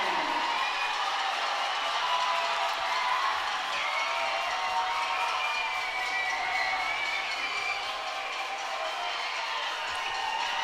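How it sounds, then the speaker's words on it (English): Home crowd at a high school varsity football game roaring and cheering in a sustained, steady wash of voices, with faint scattered whoops and clapping and no break across the stretch. "Union crowd getting loud here."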